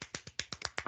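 Quick run of about eight crisp finger snaps in an uneven rhythm, close and quiet, with no talking over them.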